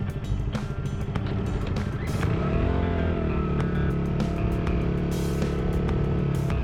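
A Japanese police motorcycle idles and then picks up engine pitch as the clutch is released during a slow U-turn. The engine stays close and steady, with a low rumble and a rising tone partway through.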